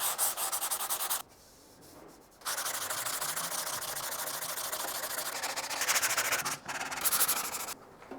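Coarse 80-grit sandpaper rasps steadily over body filler on a panel of an E30 M3 pickup, a close, loud scrubbing that pauses briefly twice before resuming in long continuous strokes.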